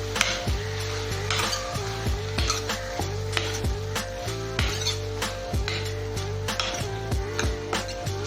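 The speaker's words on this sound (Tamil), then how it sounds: "கத்திரிக்காய் மட்டும் நல்லா வதங்கினா போதும்" Brinjal and other vegetables for veg sambar sautéing in a pan, with a constant sizzle and repeated rhythmic clinks of a spatula against the metal pan, close up and with no voices.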